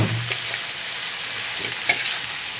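Cabbage and pork stir-fried over a full gas flame: a loud, steady sizzling hiss runs throughout, with light scrapes and a small clack as the food is stirred, and no talking.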